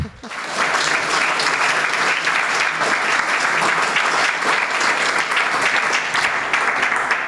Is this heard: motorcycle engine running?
no